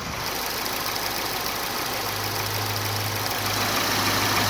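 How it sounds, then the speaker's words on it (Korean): A 2021 Genesis G80 engine idles nearby with the hood open, a smooth, even low hum and faint mechanical ticking, steady throughout with no talking. "엔진음 들어보시죠"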